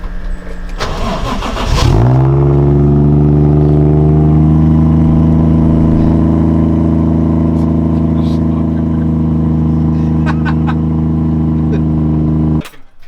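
Nissan 240 drift car cranking over briefly before its engine catches and settles into a loud, steady idle that holds close and continuous until it cuts off at the end.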